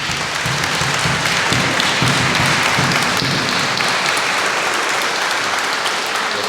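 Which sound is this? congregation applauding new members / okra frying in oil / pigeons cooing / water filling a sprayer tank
congregation applauding new members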